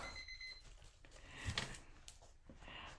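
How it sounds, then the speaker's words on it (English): A kitchen timer alarm rings in a busy home kitchen during wreath-making, a bright repeating electronic beep over background clatter and movement, with no clear speech. "Timer!"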